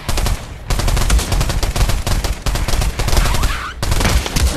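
Sustained rapid automatic gunfire from the VR shooter Pavlov in zombies mode, loud and close, broken only by brief pauses between bursts.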